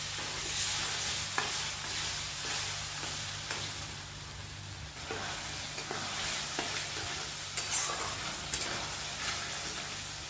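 Bottle gourd and prawn spice paste stirred and fried in a pan, a steady close sizzle with repeated scraping strokes of the spoon throughout.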